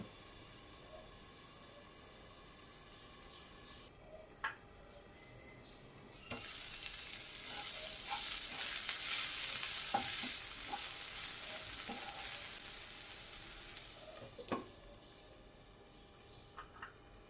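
Onion and tomato cooking in a pan for paneer bhurji, first a low simmer, then a loud steamy sizzle and hiss for several seconds with a few clinks, before settling back to a quiet bubbling.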